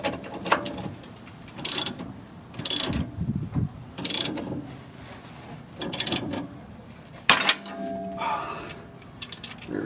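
A hand socket ratchet clicks in short repeated bursts while loosening a nut on a Ford F-150 steering joint, each run of pawl ticks separated by brief pauses, close and fairly quiet.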